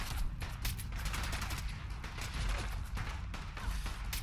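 Gunfire in Fallout 4 during a fight with enemies in flight helmets, a dense run of rapid shots crackling continuously and loudly, with no voices.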